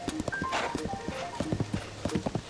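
Horse hooves clip-clop at a steady trot in Zelda: Tears of the Kingdom, Switch 2 Edition, close and distinct with brief in-game tones over the rhythmic beats.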